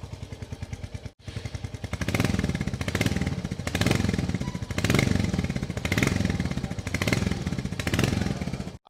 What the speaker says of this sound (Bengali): চলুন সবার আগে এর ইঞ্জিন এবং এক্সস্ট সাউন্ডকে একবার শুনে নেওয়া যাক।